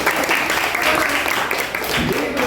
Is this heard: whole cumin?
no